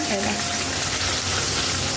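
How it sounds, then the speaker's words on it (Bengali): Fish frying in a pan in a home kitchen gives a steady, close hiss and crackle of sizzling oil that carries on without a break and sits loud and even across the whole stretch. "এখানে মাছ ভাজা হচ্ছে"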